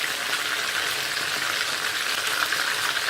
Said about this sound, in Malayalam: ഇങ്ങനെ നമുക്ക് എല്ലാ പീസസും വറുത്തെടുക്കാം